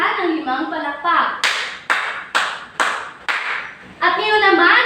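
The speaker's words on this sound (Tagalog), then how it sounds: "Bigyan natin sila ng 5 palakpak." A classroom group claps five times in unison, evenly spaced sharp claps set between children's speech before and after.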